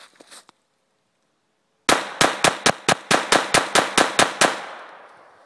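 A Smith & Wesson M&P 22 pistol fires eleven sharp, loud shots in a steady rapid string, each crack ringing briefly before the next, with a short faint rustle before the shooting starts.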